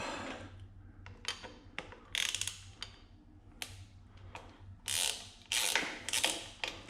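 Ratchet loosening T30 screws on the clutch and brake controls of an Indian motorcycle's mini ape handlebars, giving repeated bursts of close, crisp clicking in short runs with pauses between.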